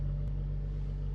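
A car engine drones at half throttle while driving, a steady low hum with a constant tone, close and even, with no talk over it.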